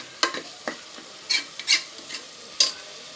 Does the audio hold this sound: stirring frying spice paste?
yes